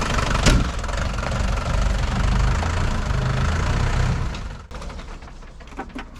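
A tractor engine idles with a low, even rumble, then briefly drops off before a quieter mechanical hum with a few small clicks.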